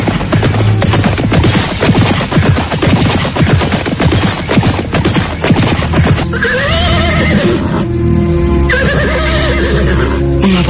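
Horses neigh and gallop in a loud, dense stretch as riders head south along the foot of Mount Arjuna in an Indonesian radio drama, with whinnies rising over the hoofbeat texture and no talk.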